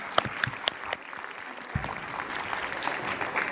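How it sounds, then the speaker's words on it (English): An audience applauds to welcome the Governor of the State of Veracruz at an event in Xalapa, Mexico. A few sharp early claps grow into steady, dense clapping that carries on evenly from a large crowd. "please give a warm round of applause to welcome the Honorable Governor of the State of Veracruz"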